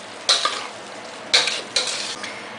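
Chop suey noodles being tossed with soy sauce in a hot pan, giving three sharp bursts of scraping, stirring and sizzling, each fading quickly, with no talk.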